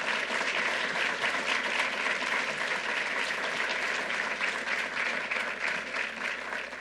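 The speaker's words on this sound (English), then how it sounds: "So to Linda and Michael, let's give them a really special round of applause." An audience gives a round of applause for two honorees at a gun-violence legislation signing, a thick, continuous wash of clapping from a large crowd, steady and even from start to finish.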